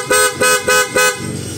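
A Bristol ADX160 loud horn installed on a vehicle blares four short, evenly spaced honks, close and loud, followed by a brief quieter tail.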